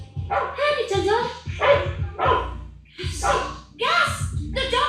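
A little dog barks in a run of short, yappy bursts, loud and close, mixed with people's voices.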